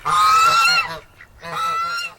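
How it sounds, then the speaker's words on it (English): Farm ducks at a small pond, making a racket with two loud bursts of harsh honking quacks close by, separated by a brief pause. "we have some ducks, and they like making quite a racket"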